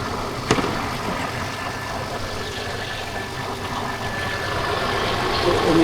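A car engine idles steadily with its alternator pulley turning, a constant close mid-level hum and rumble with one brief click near the start and no talking.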